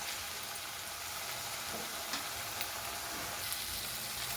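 Slit green chillies and curry leaves frying in onion paste for Andhra-style chicken curry, an even close sizzle running throughout with a few faint stirring scrapes and no voices.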